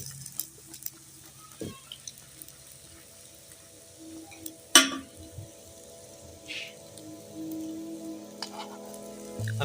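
A layered egg paratha sizzles steadily in ghee on a flat pan, with faint crackling and a brief louder scrape or clatter near the middle, no talking.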